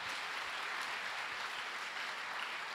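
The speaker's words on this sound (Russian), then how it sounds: "давайте похлопаем хорошенько" A church congregation applauds during a Sunday worship service, a steady, dense wash of clapping from many hands that holds evenly throughout without pause or speech.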